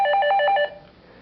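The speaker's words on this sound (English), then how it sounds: "Klingeln, tocar el timbre, sonner la cloche. Ringing." An electric bell rings in rapid, evenly spaced bursts, about half a dozen bright metallic trills over roughly two-thirds of a second, then cuts off abruptly into a quiet room with no voices.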